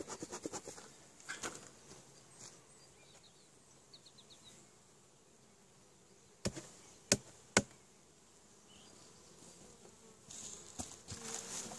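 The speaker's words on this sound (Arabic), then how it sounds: "هناك نحل كثيف جدا داخل الخلية" Honeybees buzz steadily in an opened strong hive as the lid is lifted, a dense low hum broken by a few sharp wooden knocks and clicks, with no talking.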